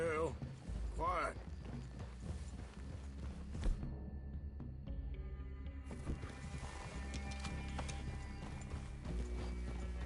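Horse hooves clip-clopping in the Red Dead Redemption 2 video game, a rhythmic close trot with a horse's whinny near the start, mixed with game ambience and a brief break in the middle.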